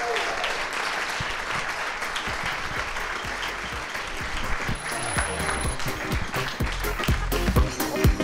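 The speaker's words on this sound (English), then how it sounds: "give them a big round of applause" A room full of attendees at a TradeMob evening show applauds two guests, sustained crowd clapping at steady volume throughout, with a faint high ping partway through.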